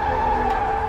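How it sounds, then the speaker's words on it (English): A sustained tire squeal with a steady high whine, loud and continuous throughout, with no voices. "What was that? That was a car tire."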